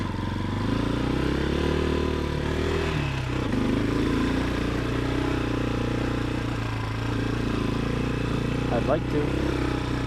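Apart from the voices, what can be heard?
CSC TT250 motorcycle engine while riding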